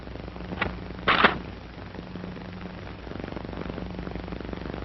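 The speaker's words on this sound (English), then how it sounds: "Here's how a trained rifleman reloads in the prone position." A trained rifleman reloads an M1 rifle while lying prone, giving a couple of short, sharp metallic clacks near the start, then a quiet stretch of faint handling.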